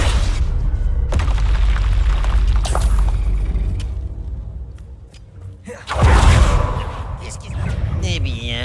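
Fiery Confringo spell blasts in Hogwarts Legacy, raiding an Ash Winder hideout: loud booming explosions with a crackling burst near six seconds, amid dense combat noise.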